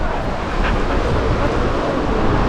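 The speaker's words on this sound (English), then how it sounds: "Man, how windy is it, Cal?" Strong gusting wind in El Calafate, Patagonia, buffeting the microphone as a steady, loud broadband roar that holds unbroken for the whole stretch, with no other distinct sound standing out.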